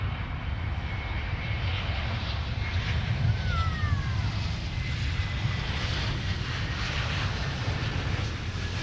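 An airliner at MSP airport floats a long way down the runway on landing, its engines a steady, loud broadband roar holding throughout with no breaks or voices.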